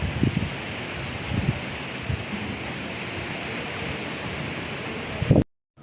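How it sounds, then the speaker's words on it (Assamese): Steady wind rushing through leaves outdoors during worsening weather, a broad continuous hiss with a few low gusty thumps against the microphone, cutting off abruptly near the end. "বতাহ মাৰি আছে চাওক।"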